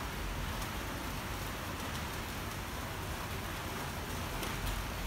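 Steady, even hiss of rain falling throughout, a constant wash of drops with no voices and no breaks.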